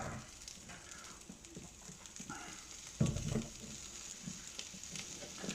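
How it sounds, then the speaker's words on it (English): Chorizo hits a hot pan with a sudden burst of sizzling that settles into a soft, steady crackle, close but faint. "I'm just going to throw the chorizo in now."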